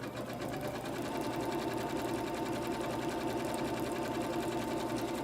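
Sewing machine running steadily through satin stitching at 3.5 width and 0.35 length, a fast, even mechanical whir with rapid needle ticking, continuous and close throughout.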